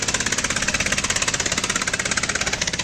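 A trawler boat's engine runs on the Sangu river, a steady rapid knocking chug pulsing evenly and loudly throughout with no voices.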